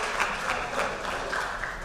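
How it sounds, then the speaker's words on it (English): Banquet audience applauding the girls varsity soccer team at a fall athletic awards night, a steady, dense wash of many hands clapping at moderate volume throughout with no voices over it. "Let's give one more round of applause to our girls varsity soccer team"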